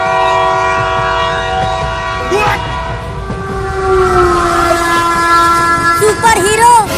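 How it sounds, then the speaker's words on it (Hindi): Trains approaching as a comedy sound effect, with loud sustained horn tones over rumbling rail noise, the pitch sliding and swelling toward the end, close and dominant. "उधर से एक और ट्रेन आ रही है"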